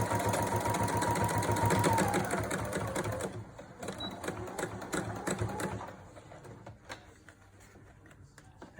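A sewing machine stitches a fabric mask in a fast, steady, close mechanical rattle that eases and slows partway through, then turns to lighter, sparser ticking.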